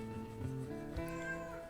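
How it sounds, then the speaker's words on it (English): A cat meows in a workshop during a guitar finish repair, a drawn-out, wavering cry close to the listener over a steady background hum, with no talking. "That's Lola the cat."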